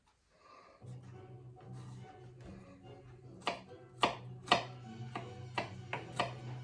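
A knife chops garlic on a board in sharp, irregular taps that grow louder and quicker, close up, over a low steady hum during lasagna preparation.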